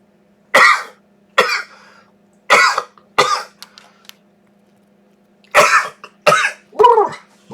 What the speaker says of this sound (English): that was a sneeze, not a cough.